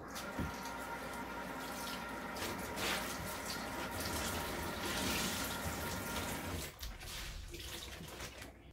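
Water running from a tap, a steady close rush and splash continuing for several seconds and then easing off, used to dampen a fabric dress before dyeing or washing.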